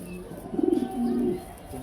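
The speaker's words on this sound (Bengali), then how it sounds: "কবুতর" A grizzle-coloured pigeon gives two soft, low coos in quick succession, close by but fairly quiet, over faint background noise.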